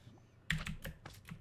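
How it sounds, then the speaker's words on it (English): Several crisp keystrokes on a mechanical computer keyboard come in a short uneven burst after a brief pause, nearby and fairly soft, with no voices. "Everyone enjoys hearing mechanical keyboard just munch away on the keys."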